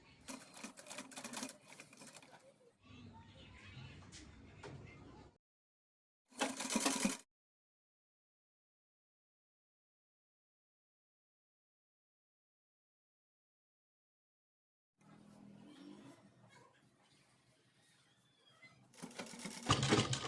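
A sewing machine stitches cord onto a child's pathani suit in short runs of whirring stitching, broken by a long silent pause before it starts again near the end.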